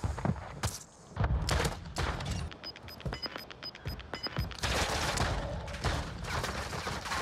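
Gunfire in a shooter video game, bursts of rapid sharp shots and thuds in quick clusters, fairly quiet overall with a few brief gaps between volleys.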